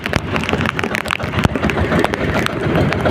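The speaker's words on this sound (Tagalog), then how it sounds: "napakalakas ng hangin" Strong wind roars and buffets the microphone out at sea during a squall, with rushing, splashing water and irregular thumps throughout, loud and constant.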